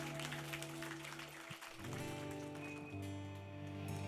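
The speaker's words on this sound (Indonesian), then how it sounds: "Boleh kita berikan tepuk tangan yang meriah untuk Tuhan kita." A congregation applauds at a Christmas service, a soft, rain-like patter of many hands clapping under sustained organ or keyboard tones, faint and continuous throughout.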